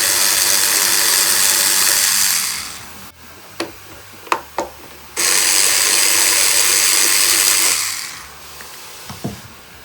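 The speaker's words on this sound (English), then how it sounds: "I'm gonna go ahead and take off the screw on the top mount." A small screw is backed out of the top mount on a Vanquish VS4-10 RC rock crawler with a power driver, which whirs loudly in two long bursts, separated by a few light metallic clicks and taps.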